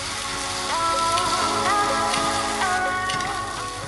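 Vegetables sizzle steadily in hot oil in a pan for yellow fried rice while being stirred, a dense, continuous crackling hiss with faint scraping, close and fairly loud.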